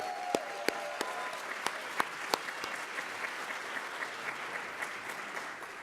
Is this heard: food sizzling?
no